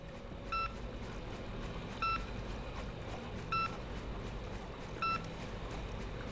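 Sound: beeping of a mushroom-detecting sensor in the video game INFRA

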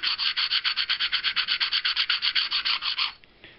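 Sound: fine grit abrader grinding edges of knife handle slab

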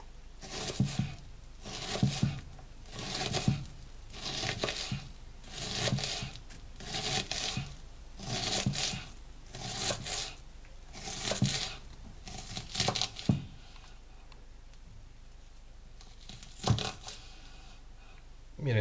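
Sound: knife dicing an onion on a cutting board

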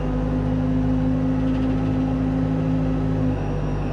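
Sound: telehandler forklift retracting its boom

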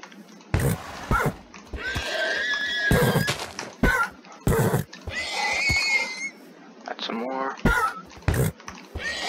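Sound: horses neighing in a video game

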